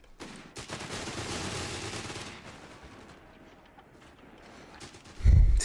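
A machine gun in the World War II strategy game Company of Heroes 3 rattles in a dense, rapid burst of battlefield fire that fades to scattered distant shots, ending with a sudden heavy low thump.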